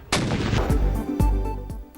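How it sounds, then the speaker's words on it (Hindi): Cannons fire a 21-gun salute for Eid Milad-un-Nabi in a provincial capital, several heavy booms in quick succession about half a second apart, loud and echoing. "सूबाई दारुल हुकूमतों में 21 तोपों की सलामी से दिन का आगाज"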